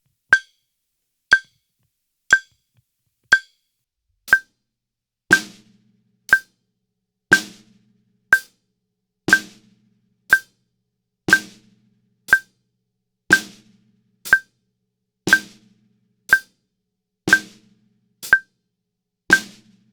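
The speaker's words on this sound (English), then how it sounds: "And then we're going to play the snare drum with it on beats 2 and 4." A drum kit beat with steady hi-hat quarter notes, a snare drum adding body on the backbeats 2 and 4, crisp, close and evenly paced for twenty seconds, with no voices.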